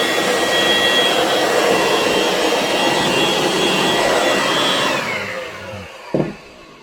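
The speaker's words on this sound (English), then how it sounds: "little vacuum cleaner that I sometimes use to clean up smaller spills" A small vacuum cleaner runs with a loud, steady whirring whine for several seconds, then switches off and winds down, followed by a brief soft knock.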